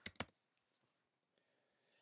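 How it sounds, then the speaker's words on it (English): Two sharp, close computer clicks in quick succession, from a mouse and keyboard used to edit button text in Metaverse Studio software, followed by near silence with only faint ticks. "Let's add some button text by clicking on the button and typing next."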